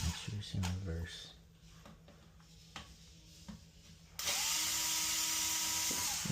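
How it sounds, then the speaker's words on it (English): A small electric screwdriver whirs in reverse while a new toilet seat is being installed, a steady motor whine in the last two seconds after clicks, handling noise and talk. "So take my little screwdriver here. Make sure it's in reverse."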